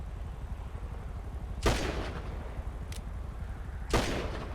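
Two loud gunshots ring out in a GTA roleplay game, about two seconds apart, each a sharp crack with a brief tail, over steady low background noise.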